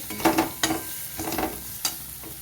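Ground spices cooking down with tomato and a splash of water in a pan for a vegetarian mung dal and pointed gourd curry, heard as close stirring scrapes and soft sizzling in short bursts, with no talking.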